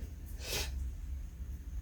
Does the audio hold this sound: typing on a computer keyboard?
no